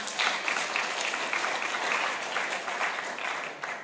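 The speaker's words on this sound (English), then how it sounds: "you can raise your fist, you can clap" Listeners at a lecture break into sustained clapping, a steady, moderately distant round of applause with individual claps rippling through it and no voices standing out.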